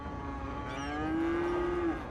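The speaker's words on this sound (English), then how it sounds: "Right, there's a lot of cows." Cattle low out in the Cities: Skylines video game: one long, close moo that swells and rises in pitch before cutting off, alone with no talk.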